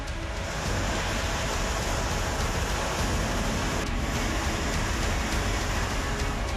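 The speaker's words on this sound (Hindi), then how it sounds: "ग्लेशियर टूटने के बाद अलकनंदा उफान पर थी।" A swollen Alaknanda river rushes after a glacier burst, a loud, steady broadband roar of surging water that holds constant throughout, with no voices.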